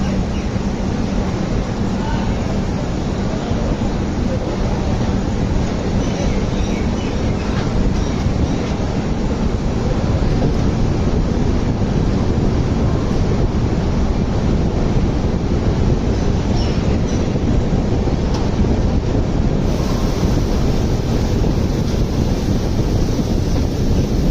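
A passenger train on the Arunachal AC Express run, arriving at platform 7 of New Cooch Behar station, rumbles loudly and continuously with heavy wheel and carriage noise and wind buffeting the microphone throughout.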